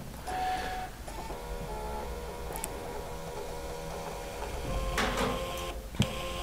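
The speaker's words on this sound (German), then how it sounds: "Der Ausdruck wird erstellt und kann entsprechend dann, wenn er vollständig gedruckt wurde, abgerissen werden." VDO DTCO 2.2 digital tachograph printing a printout, a steady whirring and buzzing print mechanism running for several seconds with faint ticks and a small click near the end, close and quiet.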